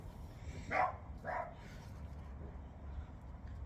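Two short barks from dogs in a tent, a fairly distant pair of yaps less than a second apart over a low background rumble, then only quiet ambience.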